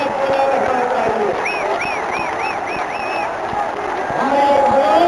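Applause and cheering from a large political rally crowd in Gazipur, a steady dense roar of clapping and shouts that swells near the end, with a whistling tone rising and falling above it.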